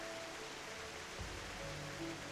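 Waterfall in World of Warcraft, a steady, faint, broadband rush of falling water that continues without a break and with no talking.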